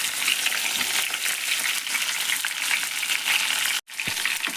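Aubergines (badanekayi) frying in oil for an Uttar Karnataka stuffed brinjal dish: a steady, loud, close hiss and crackle that runs throughout, broken by a sudden brief silence near the end before the sizzling resumes.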